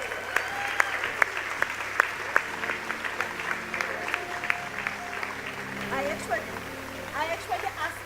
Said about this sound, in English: please join us in a warm round of applause as Mr. Tsepo Matlala receives his award.